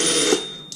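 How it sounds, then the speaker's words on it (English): A weighted-arm tippy toy tipped over gives a short, bright metallic ring that fades quickly, heard close and alone. "You tip it over, you bring it back this way, and it makes that little ringing sound"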